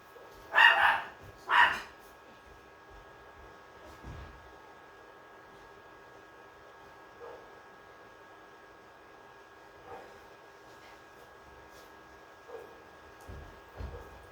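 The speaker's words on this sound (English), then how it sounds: "And he's just barking at the cat." A dog gives two loud barks at a cat near the start, followed by long near-silence broken only by faint, scattered thumps.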